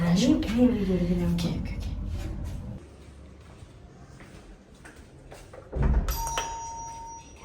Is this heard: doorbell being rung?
yes